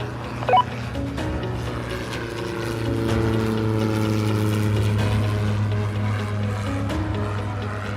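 A small propeller aircraft takes off from a runway at Fort Wayne, its steady droning engine tone swelling a little as it powers up, with a brief tick near the start.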